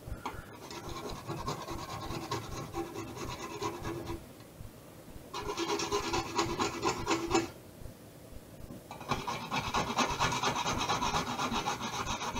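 A whisk works parsley sauce seasoned with nutmeg in a pan over raised heat, producing three bursts of rapid, rhythmic scraping separated by short pauses.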